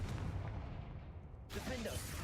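Confringo blasting spell fired in Hogwarts Legacy: a low rumbling build gives way to a sudden sharp blast partway through, close and loud, followed by crackling debris.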